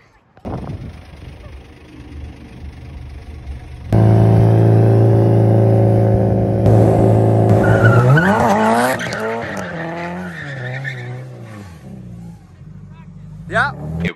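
An EJ207-swapped Subaru WRX drifts, with a loud engine drone that jumps abruptly, then long wavering tire squeals and skids that rise and fall, ending in a sharp squeal burst; voices sound over the action.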